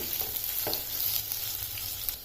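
Boiled potatoes tipped into a hot pan for a fasting-style potato bhaji, giving a steady close sizzle of frying with a few soft stirring scrapes and small thuds, no voices.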